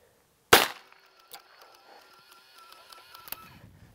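A single sharp gunshot from a Colt Python .357 Magnum revolver firing light handloaded plinking rounds from a Ransom rest, followed by faint mechanical clicks and rustling, with a small metallic tap near the end.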